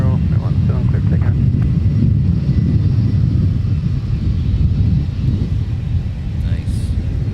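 An airliner takes off at Minneapolis–St. Paul airport, a loud, continuous low engine rumble and roar with wind buffeting, heard alongside tower radio chatter and talking.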